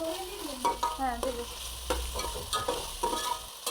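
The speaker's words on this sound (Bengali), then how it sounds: "এখন দিয়ে দিয়েছি রসুন বাটা এক চামচ একটু বেশি পরিমাণে দিয়েছে এক চামচ এক চামচ করে দু চামচ দিয়েছি তো হচ্ছে ভালোভাবে নেড়ে নিচ্ছি সব কিছু একসাথে" Garlic paste and winter vegetables being stirred in a frying pan for leftover-rice khichuri, a steady sizzle broken by repeated spoon scrapes and clinks against the pan, close by, with a brief faint voice.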